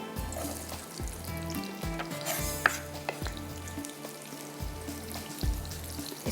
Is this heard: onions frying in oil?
yes